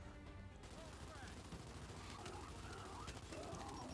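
Gunfire from a rifle in the video game Gears 5, a steady stream of shots running through the whole stretch at moderate level, with game effects and a voice talking over it.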